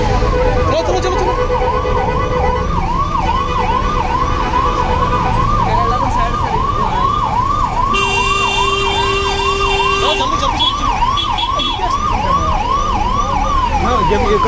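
An ambulance siren wails continuously in a rhythmic up-and-down pattern, stuck in a traffic jam in Thathri town amid steady street noise, with a vehicle horn briefly joining partway through and faint voices in the background.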